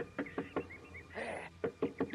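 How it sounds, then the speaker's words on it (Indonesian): A wooden gate door is pounded with several dull, irregular knocks that are fairly close and moderately loud, broken by a short burst of other noise in the middle. "Siapa yang kurang ajar mengedor pintu gerbang rumahku pagi-pagi begini?"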